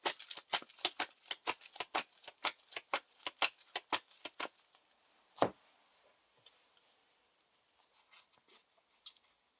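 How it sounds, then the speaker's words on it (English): Cards from a Lord of the Rings card game being shuffled by hand, a rapid run of crisp riffling clicks that slows and thins out into a few scattered taps and a final shuffle. "So we're shuffling in the Tom Bombadil."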